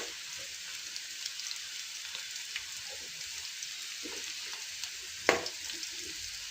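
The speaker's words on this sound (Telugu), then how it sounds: "కొంచెమే ఆయిల్ వేసేసి ఫ్రై చేస్తున్నాం." Bitter gourd frying in a little oil gives a steady, soft sizzle across the whole stretch, with one brief sharper crackle or clink near the end and no talking.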